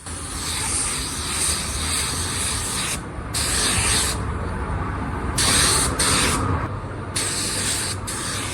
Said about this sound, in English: first we're gonna put our Bulldog on all our plastic pads.